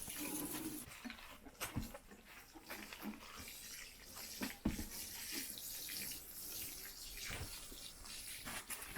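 Fish fertilizer solution is poured from a watering can around the base of garden plants, a soft continuous trickle and splash with a few brief thumps and knocks, fairly faint and close.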